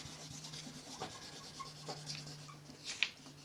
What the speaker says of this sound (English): I'll kind of rub it all down really lightly